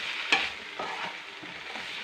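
Sour curd being stirred into a vegetable curry in a pan, with a few close scraping strokes of a spoon over a soft, steady sizzle, no voices.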